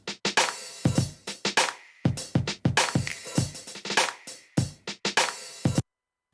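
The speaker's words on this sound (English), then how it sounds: "This is another drum loop from a different loop that I use in the same sample pack, and this is how the loop sounds." A drum loop from a beat sample pack, with punchy snare and kick hits in a busy, syncopated pattern that ends abruptly into silence, close and dry.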